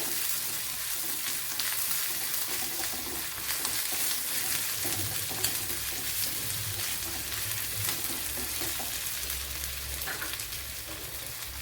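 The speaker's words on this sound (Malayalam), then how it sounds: "വെളുത്തുള്ളി ഇഞ്ചി നല്ലപോലെ ഫ്രൈ ആയി വന്നിട്ടുണ്ട്" Garlic and crushed ginger sauté in coconut oil in a pan with a constant, fairly soft close sizzle and faint occasional stirring, and no talking.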